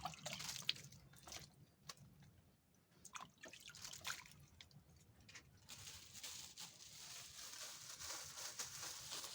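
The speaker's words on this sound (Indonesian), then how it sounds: "Kalau sudah seperti ini kita siram" Water is poured and splashed over a kedondong cutting outdoors, a faint, uneven trickle with drips and patters that swells into a steady, soft spatter toward the end, and no voices.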